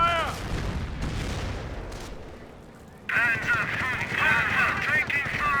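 Artillery and gunfire striking a Panzer in a Company of Heroes match: repeated booms and crackling shots, with a sharper, louder burst of impacts and debris in the second half, under a voice talking.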